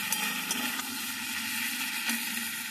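Food sizzles and crackles in a hot pan as it is sautéed in a home kitchen, making a steady, close hiss with light stirring clatters and no talk.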